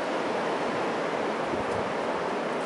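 A strong windstorm roars across a Virginia mountaintop as a continuous broadband rush like crashing surf, loud and steady with no breaks or voices.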